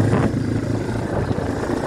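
Farm bike with a centrifugal clutch, engine running steadily with a low droning rumble as throttle is added, close and moderately loud over about two seconds.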